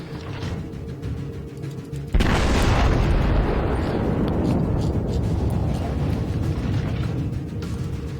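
World of Warships naval guns on the battleship Wyoming fire a single sudden, deep boom that rolls into a long, loud rumbling decay over steady ship ambience.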